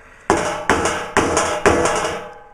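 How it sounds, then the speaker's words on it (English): A hammer beats sheet metal over a hammer form to shape a Willys jeep front panel: four loud, evenly spaced blows, each ringing out briefly before the next, with nothing else around them. "any way you can get that metal beat in that hammer form is going to work for you."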